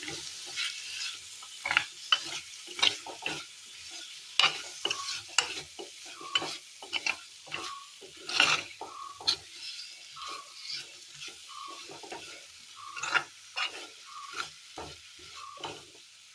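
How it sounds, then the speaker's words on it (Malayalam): Curry in a pan is stirred after a quarter spoon of ground fenugreek goes in, with a spoon scraping the pan in repeated strokes and a soft sizzle underneath, close and fairly quiet, and no talking. "ഒരു കാൽ സ്പൂൺ ഉലുവ പൊടിച്ചത് നന്നായി ഇളക്കി കൊടുക്കാം"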